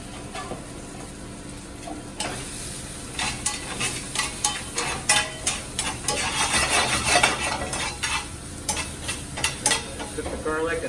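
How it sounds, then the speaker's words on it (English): Garlic and shallots cooking in a pan over medium-high heat, a soft sizzle under a run of sharp scrapes and clicks from stirring, the stirring growing busier and louder toward the middle. "Then we're going to cook a little bit of garlic."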